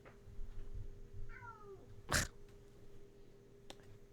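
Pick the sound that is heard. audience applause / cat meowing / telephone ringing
cat meowing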